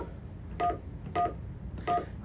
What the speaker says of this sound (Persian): خب من یه لحظه شماره ایشون رو بگیرم چون امریکا هم هستن